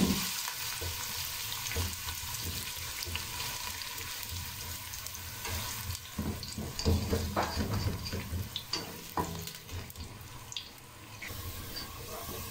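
Onions frying in hot ghee, a dense continuous sizzle and crackle heard close up, with occasional stirring clatter and no voices.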